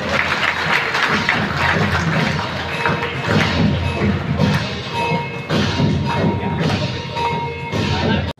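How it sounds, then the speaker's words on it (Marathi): A large crowd claps hard at a Shiv Sena rally in Sangamner, a dense, loud and steady wash of applause with thuds and shuffling mixed in, lasting the whole stretch before cutting off. "सर्वांनी जोरदार टाळ्या"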